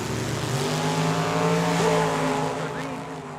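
Two Chevrolet S10 pickup trucks race at a drag strip, engines roaring loudly with sustained revving tones that shift in pitch as they accelerate, under an announcer's commentary.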